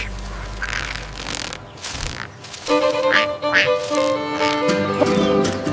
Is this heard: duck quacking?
yes